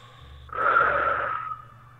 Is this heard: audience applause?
no